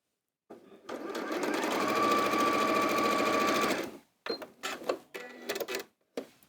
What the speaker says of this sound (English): You're going to sew just onto one side to start with.